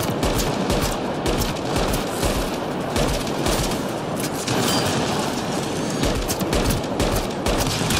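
Turret gunfire in the sci-fi shooter Mass Effect: Andromeda, a relentless rapid stream of loud automatic shots crackling without pause, dense and close throughout.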